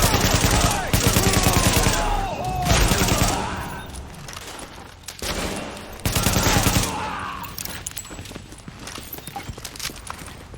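Rapid bursts of automatic gunfire in a firefight in Tom Clancy's The Division, loud and dense, with two long sustained volleys split by a brief lull and scattered shots toward the end.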